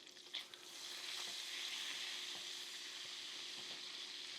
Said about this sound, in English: So keep it moving in that butter.